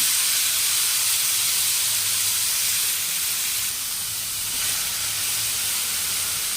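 Tomatoes sautéing with onions in a hot pan, a loud, dense, continuous sizzling hiss heard close up with no talking.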